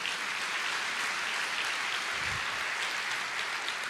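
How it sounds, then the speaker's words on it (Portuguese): Steady congregational applause in church throughout, dense and even clapping with no break. "Vamos aplaudir ao Senhor."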